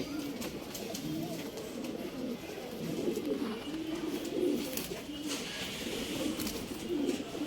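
Breeding pigeons kept for sale in RT Nagar, Bengaluru, coo in a steady, overlapping low murmur that carries on continuously at moderate volume close by, with no clear talking.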